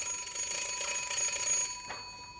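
A telephone rings in a German radio play, a bright electronic trilling bell that repeats steadily in bursts, fairly close and alone with no voices over it.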